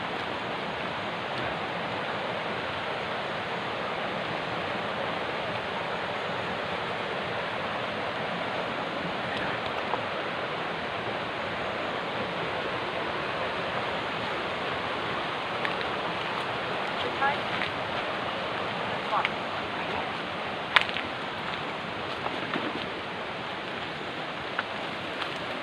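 A creek flows steadily nearby, its constant rushing wash filling the whole stretch, with a few faint knocks and rustles on top.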